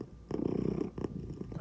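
A cat purrs close by in a soft, rumbling rhythm that swells in two stronger bursts, with no voices over it.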